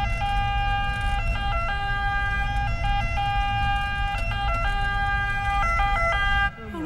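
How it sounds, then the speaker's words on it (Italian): An ambulance siren wails steadily, its two-tone pattern alternating over a rumbling traffic background, until it cuts out abruptly near the end. "Mandate subito un'ambulanza."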